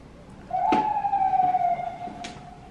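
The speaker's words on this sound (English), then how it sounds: "Let these stupid sirens go" A siren's long steady wail rises and holds across the moment, loud and fairly close, with a few knocks and rustles around it.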